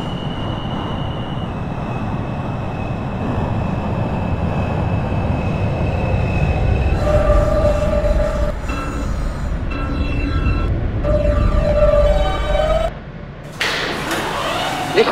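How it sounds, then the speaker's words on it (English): Subway train in the OpenBVE simulator, an F local at West 8th Street–New York Aquarium: loud steady rumble of wheels on track with whining motor tones and chimes, then a thud and a burst of hiss near the end. "This is a Manhattan-bound F local train."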